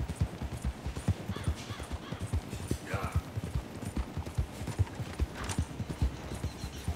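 Rapid, steady hoofbeats of a horse galloping on hard ground in Red Dead Redemption, with a brief snort partway through.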